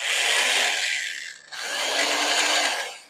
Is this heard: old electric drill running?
yes